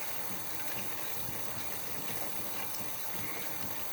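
Xbox 360 console part scrubbed with a soap-covered sponge under running water, a steady, close wash of water and scrubbing that stays constant without pauses.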